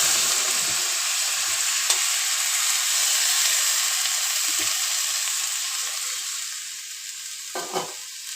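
Water hits a hot pan of sweet corn oats seasoned with black pepper and salt, giving a constant bright sizzle and hiss, with a few soft knocks and utensil clatters near the end.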